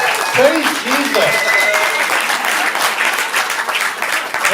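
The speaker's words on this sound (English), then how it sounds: "Give Nora a round of applause" An audience at a stand-up comedy showcase applauds steadily for several seconds, a dense wash of clapping with a few short vocal cheers early on.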